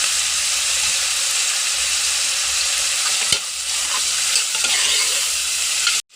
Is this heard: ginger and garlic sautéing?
yes